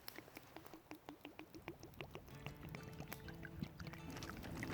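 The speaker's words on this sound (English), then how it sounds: "So I'm going to add my water a little bit at a time into my bag" Water trickles in small amounts into a bag holding flour and milk powder for an outdoor one-pot meal. Rapid, quiet gurgling blips come in a regular rhythm, then blur into a fuller, steadier pour toward the end.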